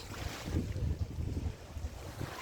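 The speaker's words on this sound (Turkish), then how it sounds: "Burası her zaman esiyor." Strong wind gusting on the Alaçatı coast, a loud blustery rush buffeting the microphone with low rumbling bursts, continuous and close throughout with no voices.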